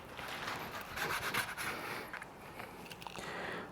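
A knife slicing thin strips of beef against the grain on a board makes soft, quiet rubbing and scraping strokes in a short, close sequence.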